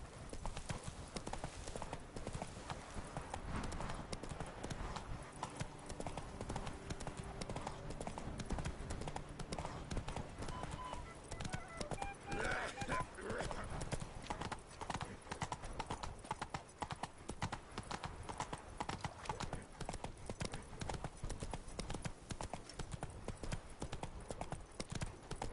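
Horse galloping in The Witcher 3 video game, a steady run of rapid hoofbeats clip-clopping loudly and continuously throughout, with occasional faint voices underneath.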